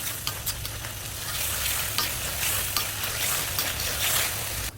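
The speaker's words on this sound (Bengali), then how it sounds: "এখন চিকেন ভেজে নিচ্ছি।" Chicken sizzles and crackles as it fries in a pan of oil and water, with a dense, steady hiss, a faint low hum underneath and no voices.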